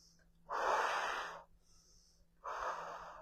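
Rapid breath-work breathing, with two strong, close, rushing breaths about two seconds apart and a quieter gap between, each one forceful and airy with no talk over them.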